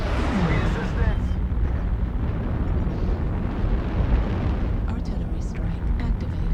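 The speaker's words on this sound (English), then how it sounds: "Artillery strike activated." Artillery strike explosions in MechWarrior Online, a continuous heavy rumbling barrage of blasts that stays loud and dense throughout, with a few sharper bursts near the end.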